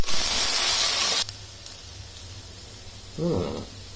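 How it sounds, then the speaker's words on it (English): Ginger garlic paste hitting golden fried onions in a hot pan bursts into a loud, close sizzle for about a second, then drops to a faint simmer with a brief clatter later. "We're going to add about a teaspoon of ginger garlic paste."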